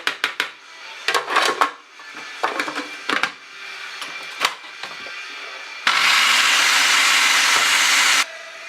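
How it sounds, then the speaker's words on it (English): Spicy yogurt sauce being whisked in a bowl, with short scraping and clinking bursts in the first half, then a steady, loud whirring hiss for about two seconds before it cuts off. "Every now and then scrape down the sides and make sure everything is whisked up very nicely."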